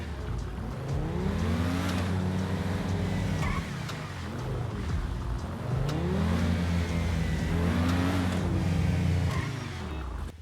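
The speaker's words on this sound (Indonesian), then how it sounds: "gue mau umpetin mobil ini dulu guys ke belakang kastil yang paling besar ini" A car in the GTA 5 video game drives continuously, its engine droning loud and close with repeated rising and falling revs as it accelerates and shifts, with no talking.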